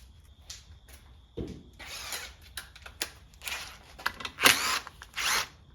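A power tool working bolts out of the shift rod detent ball end plate on a Getrag 260 gearbox, sounding in several short bursts of whirring with small metallic clicks between them, close up and with no talk.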